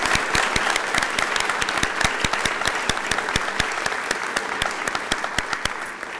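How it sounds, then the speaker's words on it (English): A crowd at a city commission swearing-in ceremony applauds the fire and police departments, a steady, full round of clapping with distinct individual claps standing out nearby. "our fire department and police department deserve a big round of applause"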